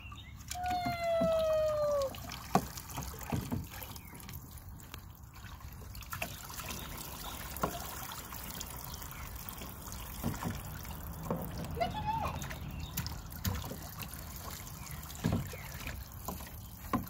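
Water trickles and pours steadily at a child's water play table, with a child's squeals and an adult's talk over the splashing.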